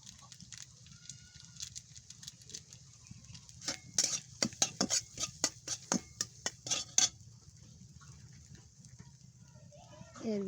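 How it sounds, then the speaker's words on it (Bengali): Boiled noodles with noodle spice mix being stirred in a pan, a quick run of clinking utensil scrapes and taps against metal over a faint sizzle, framed by quieter stretches. "এর ভিতরে এই যে সিদ্ধ করে রাখা নুডলসগুলো দিয়ে দেব, দিয়ে নাড়াচাড়া করব।"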